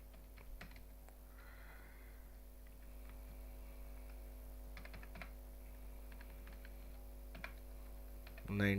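Faint keystrokes on a computer keyboard while dates are typed into an MS Excel sheet, scattered taps and clicks over a steady electrical hum, with a louder knock at the very end.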